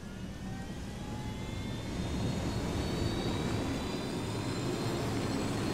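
Steady jet-like roar of a fixed-wing airplane in Ghost Recon Wildlands, a broad continuous engine rumble with faint whining tones that grows slightly louder partway through and holds constant.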